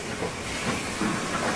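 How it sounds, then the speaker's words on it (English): Steam locomotive on the Nilgiri mountain rack railway gives off a steady rushing hiss of steam with faint rhythmic chuffing, heard close up for a brief moment with no voices. "Pinion wheels under the steam loco and carriages bite into the notched rack rail and stop the"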